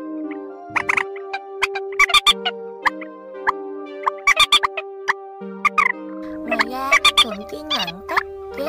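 Recorded trích bird calls used as a bird-trapping lure play as sharp, repeated chirps and trills in clusters, with a steady tone underneath and a denser burst of warbling calls near the end.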